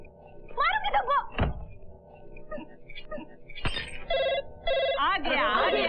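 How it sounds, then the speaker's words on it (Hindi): A telephone rings in short repeated bursts toward the end, while voices talk and bumps and thuds sound in the room. "आ गया आ गया आ गया, फोन आ गया।"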